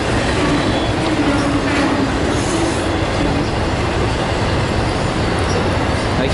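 A freight train hauling auto racks rolls past close by, with a rear DPU locomotive, in a steady loud rumble of wheels and cars, faint squeals and rhythmic clatter throughout, while someone briefly speaks.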